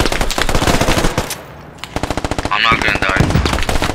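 Machine gun fire in the tactical shooter Squad, dense rapid bursts close and loud, pausing briefly then resuming in a long stuttering burst while a voice speaks over it.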